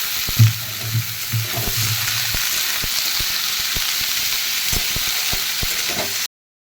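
Mutton fries in hot oil in a kadai, giving a steady, close sizzle that runs unbroken with occasional soft clicks and stirring knocks, then cuts off abruptly at the end.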